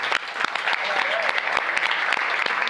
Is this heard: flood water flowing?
no